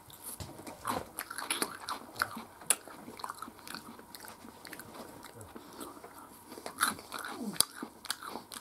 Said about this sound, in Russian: Он чавкает.